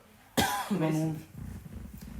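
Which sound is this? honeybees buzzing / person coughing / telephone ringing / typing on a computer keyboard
person coughing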